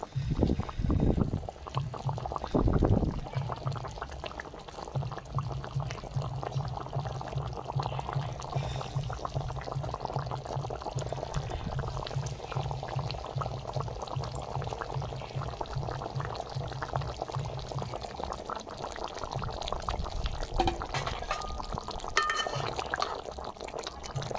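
A vegetarian fish curry bubbling steadily in a pot, a continuous close boil with a dense, even rumble and occasional faint clinks, heard without talk.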